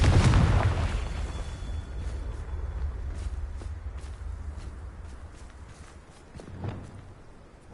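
A Confringo fire spell explosion in Hogwarts Legacy: a heavy low boom at the start that rolls into a long rumbling tail, followed by scattered thuds and a smaller impact near the end.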